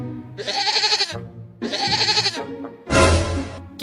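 Cartoon goat kids bleat in three loud, drawn-out cries, two long wavering calls followed by a shorter, harsher one, close and alone with no talking.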